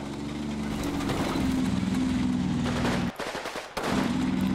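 Machine gun fire in the World War II strategy game Combat Mission Red Thunder, during a Soviet assault on Festung Posen: dense, sustained rapid bursts with a brief lull before the firing resumes, loud and with no talk.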